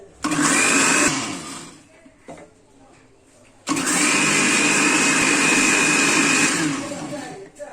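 An electric mixer whirs loudly as it beats cake batter with salt and oil, running in two long bursts separated by a quieter pause, with a voice talking in the background.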